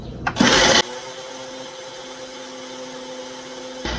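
A kitchen blender purees cashew nuts into nut milk. After a short burst of louder noise it settles into a steady, even motor whine that runs continuously and evenly before a final jolt at the end.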